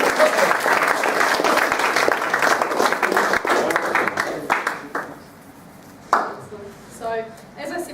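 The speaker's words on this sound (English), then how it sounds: "Give him a round of applause." Warm applause from a roomful of people at a youth sports club's parents night rolls on for several seconds, then fades to a few stray claps, clatter and murmured talk.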